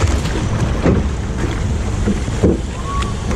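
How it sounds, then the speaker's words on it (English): A log flume boat moves through rushing water at the Fraispertuis City amusement park, with steady splashing and wash mixed with wind buffeting the microphone, loud and close throughout. "It's only quite a short flume ride"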